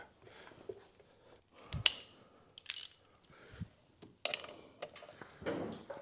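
A ratchet reinstalls a motorcycle primary oil drain plug: irregular metallic clicks, taps and short clattering bursts, close and moderately loud, with no voices.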